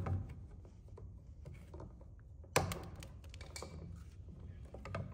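A utility knife scores the sheath of an electrical cable while wiring an outlet, giving quiet close scratching clicks and small taps with one sharper snap midway.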